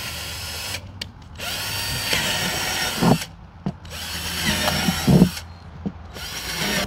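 A power drill bores drainage holes through the bottom of a plant container in several loud whining bursts separated by brief pauses, with a bite and grind as each hole goes through.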